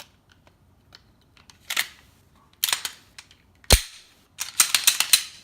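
Glock 19 pistol being reassembled, a scattered series of sharp metallic clicks and snaps, including one loud crisp slide snap and a quick cluster near the end, close and isolated, with no talking.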